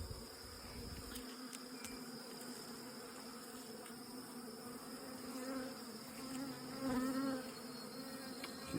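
Honey bees buzz around a beehive during a swarm capture, a dense, close, steady droning hum with individual bees whining past nearby.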